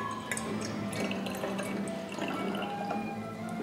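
Water pours steadily into a set of connected communicating tubes in an Italian science demonstration, a continuous trickling and splashing flow heard close up with no talking.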